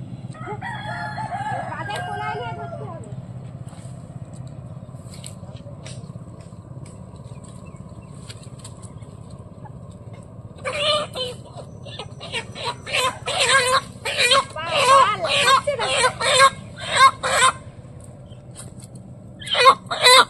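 Domestic village chickens close by: one loud crow opens, followed by a quiet stretch, then a busy run of clucks and squawks in the second half.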